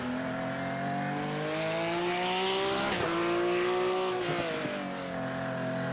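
A race car engine drones loudly and steadily on track during a two-hour endurance race in Detroit, its pitch rising and falling through gear changes as it laps without any talk.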